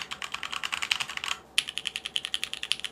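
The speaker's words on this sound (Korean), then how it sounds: "키크론이랑 비교를 해봅시다. 이거 두 개 다 똑같은 체리 가위축이 들어갔습니다." Rapid typing on a Keychron keyboard with Cherry scissor switches, a close, crisp stream of light clicks with a brief pause partway, then resuming at an even pace.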